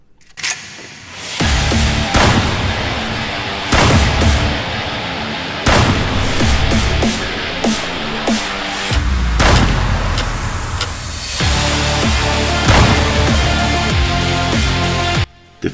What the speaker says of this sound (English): Shooting zombies with a shotgun with high tempo music in the background is always fun.